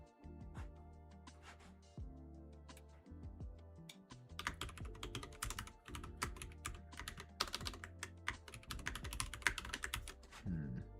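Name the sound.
typing on mechanical keyboard with brown switches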